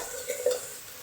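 Boiled banana-and-chickpea mash ingredients are poured into a hot pan of bhorta spices and hiss briefly up close, with a quick stir and a sharp sizzle burst, no voices.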